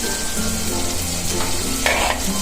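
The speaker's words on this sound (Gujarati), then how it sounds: "પછી આપણે એમાં નાખશું લાલ મરચી પાવડર ગરમ મસાલો અને હળદર અને એક ચમચી નિમક" Red chilli powder, garam masala, turmeric and salt frying in hot oil in a pan for a potato bhandara curry, a steady close sizzle with stirring scrapes throughout.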